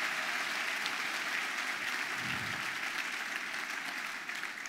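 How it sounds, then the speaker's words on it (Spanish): A church congregation applauding during a live broadcast service, a faint, steady wash of distant clapping held evenly, fading slightly at the very end. "si es para el Señor, creo que Él merece un mejor aplauso"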